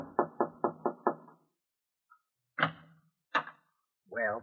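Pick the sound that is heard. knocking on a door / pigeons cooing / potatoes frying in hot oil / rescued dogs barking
knocking on a door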